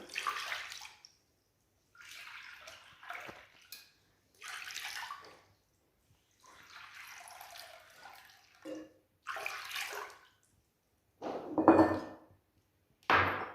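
Water running from a kitchen tap in several separate bursts, each a hissing splash lasting one to two seconds with silence between, ending in a louder, fuller pour near the close.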